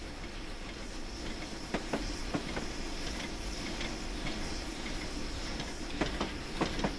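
The wartime-livery Flying Scotsman locomotive hauling a train slowly along the rails, a steady rumbling roll with faint hiss and scattered clicks of wheels over rail joints, no voices.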